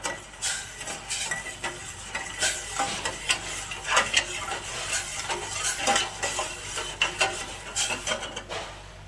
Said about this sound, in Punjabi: ਚੀਨੀ ਨੂੰ ਇੱਥੇ ਆਪਾਂ ਚੰਗੀ ਤਰ੍ਹਾਂ ਘੋਲ ਲਾਂਗੇ ਜੀ ਚਮਚ ਨਾਲ ਹਿਲਾ ਕੇ